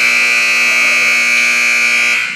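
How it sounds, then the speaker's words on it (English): A basketball game buzzer in a high school boys' gym ends the first half, one loud, continuous electronic tone held for over two seconds before it cuts off. "And there was the buzzer, but there was a whistle before the buzzer."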